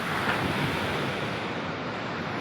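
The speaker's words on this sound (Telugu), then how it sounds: "అలలు కూడా చాలా బాగా వస్తున్నాయి" Ocean waves wash onto the beach at Kavvayi island in India, a continuous loud rushing roar with wind noise and no pauses.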